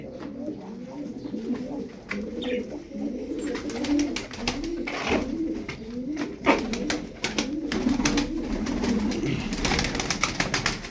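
Pigeons coo in a steady, overlapping chorus at close range, with scattered clicks and rustles from birds moving about an enclosed space.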